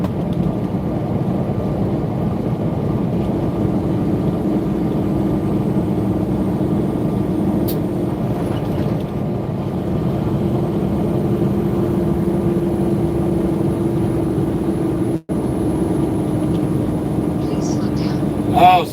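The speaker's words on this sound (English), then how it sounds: "If you'd listen to the engine, you'd know we were slowing down." A boat engine drones low and steady for the whole stretch, a continuous rumbling hum with people talking over it.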